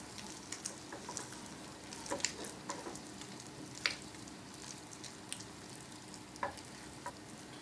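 Bread and semolina dough mixed with ghee in a pan: soft stirring and sizzling with scattered small taps and scrapes of a spoon, steady and close, with no talking.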